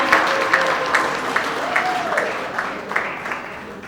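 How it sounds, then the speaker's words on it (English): Audience applause at the No One Has To Know book launch, a steady round of many hands clapping in a hall, moderately loud with crisp individual claps standing out and a faint voice underneath. "Big round of applause for Lisa."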